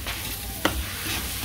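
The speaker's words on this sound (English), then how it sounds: "We parch the rice with the green seasoning." Rice parching in a pot with green seasoning, onion and garlic for Guyanese cook-up rice: a steady close sizzle with one sharp click partway through.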